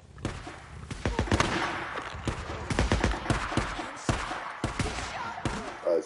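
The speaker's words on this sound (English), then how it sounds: "I hear gunfire." Gunfire from a fight between rival groups in the video game Days Gone, with sharp shots cracking out in irregular bursts and volleys, some close and loud, others softer.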